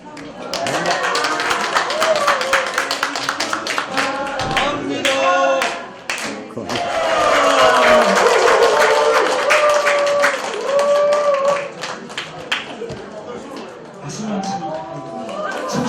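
A lecture audience at a blockchain class claps together at the end of the session, steady applause filling the room for most of the stretch with a brief dip midway, while voices talk over it.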